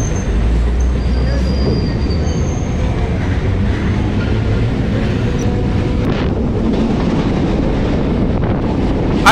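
A Chennai suburban train rolls into Light House railway station, a loud continuous rumble of wheels and carriages with wind buffeting and a brief metallic squeal, no one speaking.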